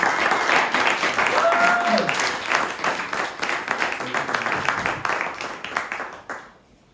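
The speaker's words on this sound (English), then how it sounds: "let's give a round of applause again for this amazing meal and those who made it live" An audience welcomes a speaker at a literary event with a burst of applause, loud and dense at first, then thinning into scattered claps and fading out; a brief voiced tone rises above the clapping.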